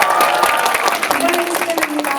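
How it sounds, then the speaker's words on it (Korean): An audience at a special screening event for the Korean film Along with the Gods at Lotte Cinema World Tower claps enthusiastically, dense, close applause filling the room. "큰 박수로 감독님과 우리의 3차사를 맞이해주세요"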